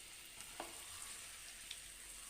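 Finely chopped onions frying in oil in a pan for butter chicken, a soft, steady low sizzle with a couple of faint stirring clicks, quiet and close.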